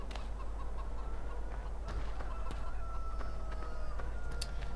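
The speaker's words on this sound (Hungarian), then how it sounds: "Akarom nézni a csirkéimet." Chickens cluck faintly in the farming video game Farming Simulator 2015, with scattered short calls over a constant low hum.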